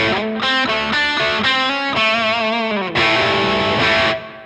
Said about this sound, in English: So I've put the gain on full and I've made the pedal completely wet.